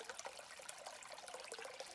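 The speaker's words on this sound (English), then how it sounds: "there's like a tiny trickle of water" A tiny trickle of water runs over rock on a desert day hike along the Kraft Boulders Loop in Red Rock Canyon near Las Vegas. It makes a faint, continuous, close-by burble with small splashy flickers and no voices.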